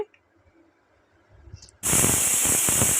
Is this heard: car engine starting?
no